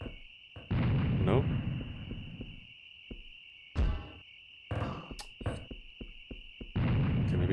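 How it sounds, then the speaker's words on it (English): Grenades burst in the shooter Serious Sam: The First Encounter as several sharp blasts at irregular intervals, cutting through a constant high insect-like game drone, with a player's voice speaking between the explosions. "I'm wasting my grenades"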